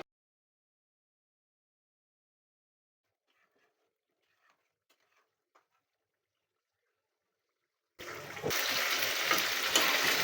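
Stirring Hyderabadi chicken fry in a pan: near-silence with a few faint ticks, then from about eight seconds a loud, steady sizzle with scraping stirs, no talking.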